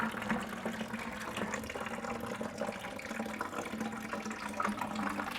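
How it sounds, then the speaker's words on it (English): Water steadily draining out of a cut copper pipe into a bucket while an exterior house hydrant is being replaced, a continuous near splashing flow with no pauses. "I do have a bucket for when the water starts to come out here."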